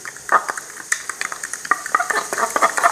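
Broken eggs whisked hard in a bowl for egg bhurji while onions fry nearby: rapid, irregular clinking and beating strokes up close, layered over a soft continuous sizzle.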